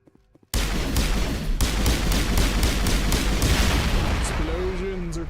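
Dense video game gunfire and explosions from Mass Effect: a sudden loud burst of rapid, continuous shots with repeated sharp blasts, sustained for several seconds after a brief quiet start.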